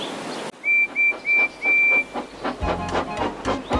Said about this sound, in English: when he heard a familiar whistle